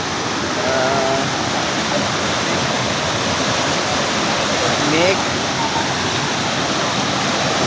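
River water rushing over rocky cascades outdoors. A loud, steady, full roar of tumbling water runs without a break, close to the listener.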